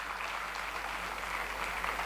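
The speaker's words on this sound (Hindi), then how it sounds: "एक ज़ोरदार तालियों से हम सर का जो है वो हौसला बढ़ाएं।" Audience applause for a doctor at a hospital event for free breast cancer surgery, a steady wash of clapping heard faint and distant with a low hum beneath.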